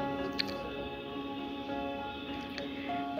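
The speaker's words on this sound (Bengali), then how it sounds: "লবণ দেওয়ার পর এখানে একটু নাড়িয়ে আমি অল্প একটু জল ব্যবহার করছি যাতে আমার টমেটোটা খুব ভালোভাবে পেস্ট হয়ে যায়" A spoon stirs tomato masala with a little water in a pan for a dharosh (okra) recipe. It makes soft, wet squishing and dripping sounds over a steady background hum, close up, with no voices.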